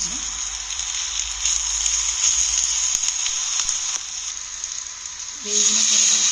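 Tomato frying in a pan for masala oats, a steady hissing sizzle that runs throughout with a brief change near the end, close and without talking.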